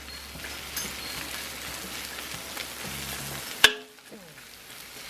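White onion and the white part of spring onion fry in a wok with a soft, rain-like hiss and light stirring taps, then a sharp clatter and the sizzle dying down to near quiet.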